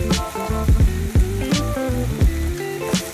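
Onion sautés in a pan with steady close sizzling, broken by sharp repeated clinks and scrapes of a spatula against the metal.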